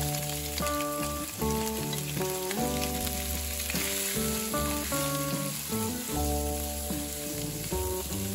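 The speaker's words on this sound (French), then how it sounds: "Chauffer à grand feu, mettre la viande, remuer de temps en temps." Pork sizzles in hot oil over high heat for Taiwanese braised pork, a constant, dense crackle that goes on without a break while music plays over it.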